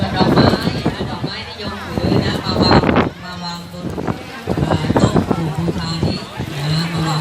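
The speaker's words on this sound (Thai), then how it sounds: "โอ้ลมแรงมากเลยนะครับวันนี้" Strong wind blows outdoors, buffeting the microphone in loud, rushing gusts throughout while people talk close by.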